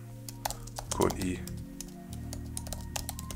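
Rapid clicks from a computer keyboard, with uneven bursts of keystrokes close by, run throughout while someone speaks over them.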